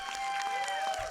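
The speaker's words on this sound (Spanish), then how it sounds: "A la gemela de Mariana un aplauso, por favor." Short burst of audience applause, faint and brief, with some scattered clapping during a lively talk-show-style gathering.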